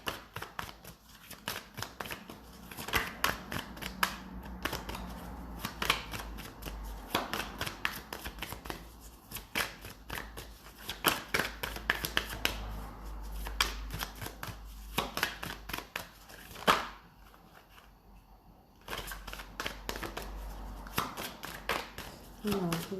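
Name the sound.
shuffling and drawing a card from a deck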